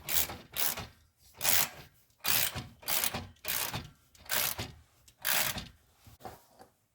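Ratchet tightening a clamp on an aftermarket CV Fab downpipe, about eight slow, even ratcheting strokes, close and moderately loud.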